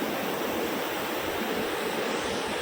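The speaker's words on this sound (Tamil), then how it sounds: "இவ்வளோ தண்ணி வரும் நிமிஷத்துக்கு ஐயாயிரம் கண்ணாடி தண்ணி வருதுன்னு நினைக்கிறேன்" Floodwater rushes after days of continuous rain, making a loud, unbroken roar with no pauses, close by and with no voices over it.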